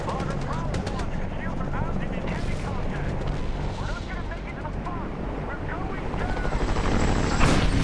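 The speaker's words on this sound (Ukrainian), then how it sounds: "Гаплик гелікоптеру." A helicopter in the 2010 Medal of Honor video game thuds steadily with rotor chop and engine whine, mixed with explosions and other game effects, while someone talks over it throughout.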